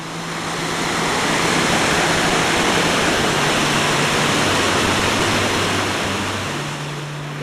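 Waterfall on Needle Creek, a few miles from Needleton in the mountains, pours as a steady, loud, broadband roar, close and continuous, with no voices over it.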